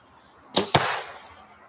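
Two sharp, close impacts of arrows striking a target at an outdoor archery range, the second following the first by about a fifth of a second, each trailing off into a brief fading ring.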